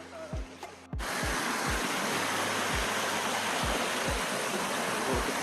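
Stream flowing beside a campsite at Nagalapuram: a steady rushing wash of water that sets in after a brief quiet start, with repeated low thuds underneath.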